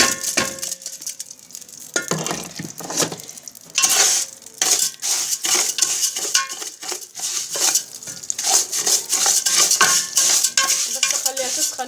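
Vermicelli frying in a pan for koshari while being stirred, with scraping and clinking of a utensil against the metal over a steady crackling sizzle, loud and close throughout, no talking.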